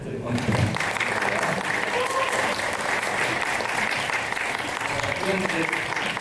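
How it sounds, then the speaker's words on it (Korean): A concert audience applauds the composer after an experimental music theater performance, giving steady, dense clapping throughout with voices mixed in. "박장훈 작가님께 한번 박수 부탁드립니다"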